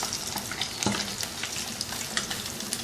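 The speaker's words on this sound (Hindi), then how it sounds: "ये फ़िश अच्छे गोल्डन कलर में फ्राई हो गई है।" Fish fillets frying golden in hot oil give a steady, fairly faint crackle and hiss with small scattered pops and one brief clack partway through.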